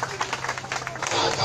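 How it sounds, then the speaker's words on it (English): Brief burst of crowd clapping at an anti-vaccine protest gathering in Benin, steady and fairly close, with speech-like voices mixed in over the short span. "Please, let's clap on for ourselves."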